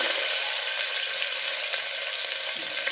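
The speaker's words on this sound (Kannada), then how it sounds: "ಸಣ್ಣ ಕಟ್ ಮಾಡಿಕೊಂಡು ಆನಿಯನ್ ಹಾಕ್ಕೊತಾ ಇದ್ದೀನಿ" Small-cut chopped onions fry in hot oil, giving an even, dense hiss and crackle that holds steady and close from start to finish, with no voices.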